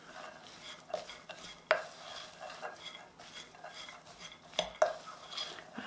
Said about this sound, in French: Donc je mélange déjà un petit peu.